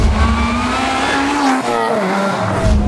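A supercharged 316 bhp Honda Integra Type R DC5 on a spirited drive, the engine note climbing loudly with tyres squealing through a skid, close and continuous.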